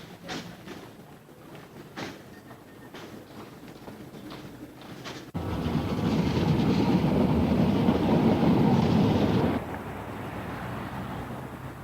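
A Tyne and Wear Metro train runs along the line, with a steady rumbling roar that swells suddenly and holds loud before dropping back to a lower, sustained rolling noise; no one speaks.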